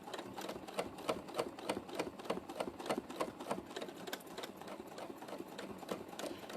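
A sewing machine stitches free-motion quilting through two layers of 100% polyester wadding, a fast, even needle chatter that runs close and steady from start to finish with no talk.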